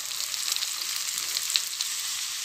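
Onion slices sizzle and fry in hot oil in a pan after cashews have been fried for a chicken dum biryani, a continuous close bright hiss with small crackles and no talking.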